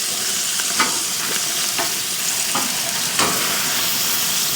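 A sausage sizzles and spits on an infrared gas grill set to high, a steady close hiss dotted with a few sharp pops and crackles.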